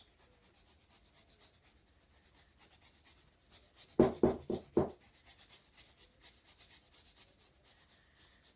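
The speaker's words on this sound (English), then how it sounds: "Grind the ginger, adding a flavor for our taro leaves." Baby ginger being ground by hand as flavouring for taro leaves, a short cluster of four or five scraping, rasping strokes midway through, set against faint steady background hiss.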